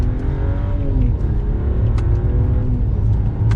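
From the cabin, a 2022 Mercedes-Benz S500 in Sport Plus accelerates, its muffled engine note climbing in pitch under steady road rumble. A few light clicks and bumps sound through.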